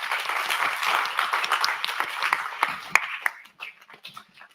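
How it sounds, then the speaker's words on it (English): A live audience at an outdoor festival tent show applauds and cheers, with dense clapping that tapers off near the end. "Round of applause."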